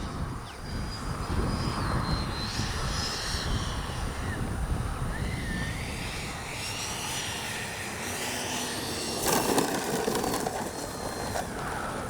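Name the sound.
Freewing 90mm F-15 RC jet engine in flight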